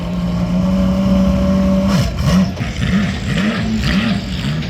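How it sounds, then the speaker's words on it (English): An engine drones steadily, then revs up and down repeatedly as the Kettler race car rolls out at the 2025 Rolex 24 Hours of Daytona, loud and close with a rising-falling pitch. "Now you just heard the Kettler car rolling out."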